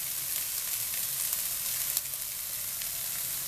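Chopped onion frying alongside browning meat for a ragu, giving a steady, bright sizzle with faint crackles and a few small pops, close and fairly soft, no voices.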